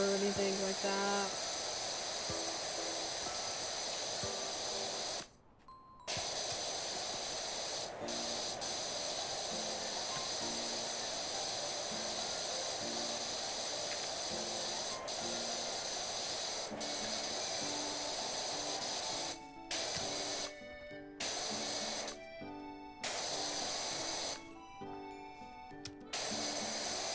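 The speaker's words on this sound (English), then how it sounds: "are the water spraying noises too loud or anything like that?" Sustained hissing water spray from a pressure washer in the video game PowerWash Simulator 2, loud and steady throughout with brief cut-outs, while a voice talks over it.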